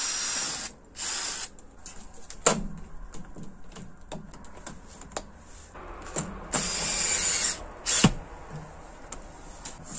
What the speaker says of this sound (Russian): Саму воронку тоже сажаю на саморезы.